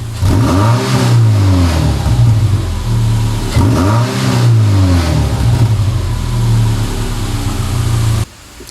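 A Subaru Impreza with an EJ25 engine and Magnaflow exhaust revs hard to high rpm twice in loud, sustained bursts with a rough, burbling exhaust note, close up and alone, cutting off abruptly near the end.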